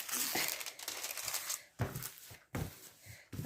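Protective plastic film crinkles and crackles in quiet, uneven handling bursts with brief pauses between them, close by.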